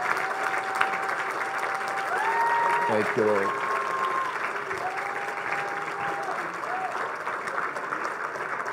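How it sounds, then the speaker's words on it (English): A church conference congregation gives a clap offering at a Sunday morning session, sustained applause under someone speaking briefly while sustained organ or keyboard tones play in the background. "Can we give the Lord a clap offering"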